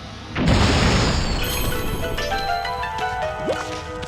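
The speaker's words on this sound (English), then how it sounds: "if I want a bomb, I just boom, hold down R1, screen goes flat, draw bomb, explode" A bomb drawn with the Celestial Brush explodes in the video game Okami: a sudden loud blast that opens a long rumbling, crackling decay, followed by chiming game tones and a small pop near the end.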